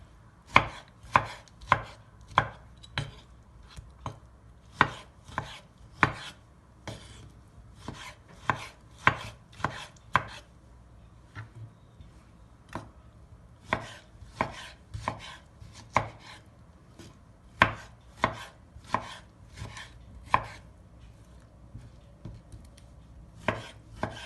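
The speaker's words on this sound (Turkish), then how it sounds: "Şimdi domateslerimi doğramaya başlayacağım. Domateslerimi de küp küp doğrayacağım." A knife dices tomatoes into cubes on a cutting board in sharp, regular taps, sometimes in quick runs, close and clear with no talking.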